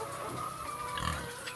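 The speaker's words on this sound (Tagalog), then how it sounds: "Ayan, yung baboy na yan." A pig on a farm grunts and snuffles while rooting about, a few close, low grunts running steadily through a short stretch with no talking.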